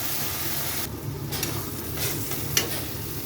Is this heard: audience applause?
no